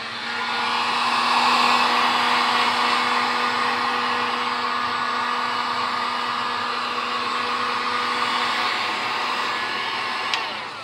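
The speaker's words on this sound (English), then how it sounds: "I took my heat gun and putting it on the high setting." A heat gun on its high setting warms a silicone surface during a foam cosplay cowl build, a steady, loud blowing whir that runs without a break and sounds close.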